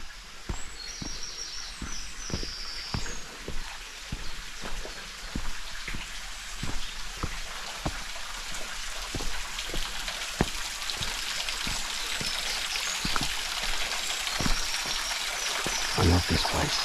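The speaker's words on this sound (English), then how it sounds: "I can hear the dripping well." Water dripping at a natural dripping well in a coastal glen, with sharp, irregular drops landing close by over a soft, steady background of trickling water and faint birdsong.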